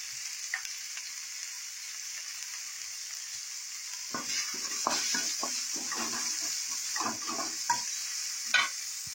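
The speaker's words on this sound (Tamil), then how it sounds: "இப்போ வந்து வெங்காயம் நல்லா வதங்கிச்சு" Onions sautéing in a pan with salt while being stirred: a steady bright sizzle runs throughout, joined midway by repeated scraping stir strokes, close and moderately loud, with no talking.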